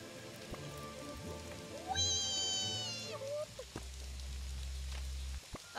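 Rainfall in the game Wuppo makes a constant hiss, while a short high tonal warble and a few gliding chirps rise briefly over it before a low rumble settles in.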